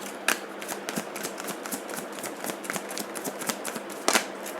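Tarot cards being shuffled and drawn, a steady close patter of soft card flicks and rustles with a few sharper snaps near the start and end, no talking.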